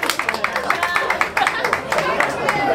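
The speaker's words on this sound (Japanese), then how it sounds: "大きな拍手お願いします" Brisk, busy clapping from the audience at a live rap battle as the winner is announced, several seconds of close, lively applause with voices talking over it.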